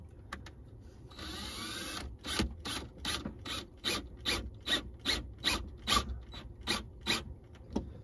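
A power tool drives a screw into a Ford van's sliding door in a camper conversion, a brief whir followed by a rapid series of regular ratcheting clicks, close and clear.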